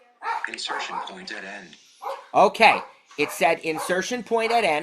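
A puppy barks and yips in short bursts in the background while a person keeps talking over it.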